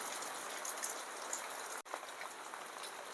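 Fine light morning rain patters steadily and softly in a continuous hiss of small drops, briefly interrupted by a tiny dropout.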